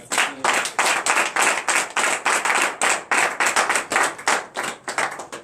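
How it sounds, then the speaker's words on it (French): A congregation at a Saturday morning prayer service in Comè, Benin claps in a steady, rhythmic beat, sharp hand claps repeating evenly for several seconds, loud and close with no talking over them. "Donnez l'acclamation à Jésus"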